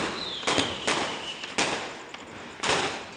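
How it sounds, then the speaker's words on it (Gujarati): Mirchi bomb firecrackers burst at a Diwali celebration, four sharp loud cracks at irregular intervals, with crackling noise between them and no talk. "તો હવે યશવી મિર્ચી બોમ્બ ફોડી રહી છે."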